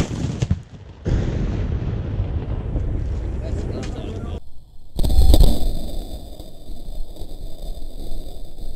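An 1865 Civil War cannon is fired outdoors, a single heavy boom followed by a rolling rumble and wind buffeting on the microphone. Voices are heard around the blast.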